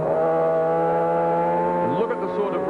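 A 1989 superbike screams around Phillip Island during a race, its engine holding a high, sustained howl of around 11,000–12,000 revs, with a second machine's note sweeping past near the end.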